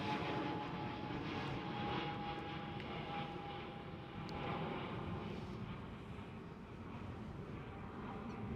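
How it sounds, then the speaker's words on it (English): A KLM Airbus A321neo airliner at Amsterdam Schiphol, heard as a steady, fairly distant engine roar that holds for the whole stretch, with a faint thin whine riding over it early on. "A321neo. We will see these much more and more. Slowly replacing the Boeing 737s."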